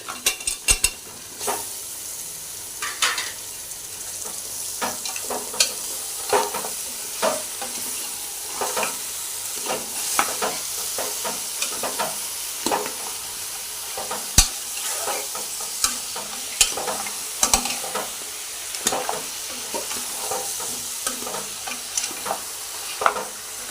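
Telangana-style goat head curry frying in a pan while being stirred, a continuous sizzle broken by frequent scraping strokes and metallic clinks of the spoon against the pan, close and fairly loud, without speech.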